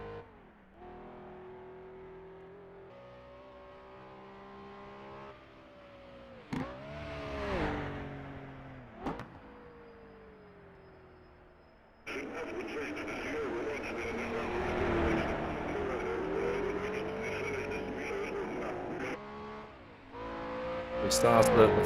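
Race car on the Isle of Man time trial course heading back down the hill, engine note rising and falling through gear changes, then a louder, denser roar as it passes close, with a commentator talking over it.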